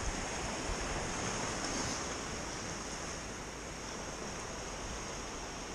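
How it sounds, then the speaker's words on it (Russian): Steady, continuous wash of sea waves breaking on a beach, a soft broadband roar heard alone at moderate distance with no talk. "Блин, море рядом."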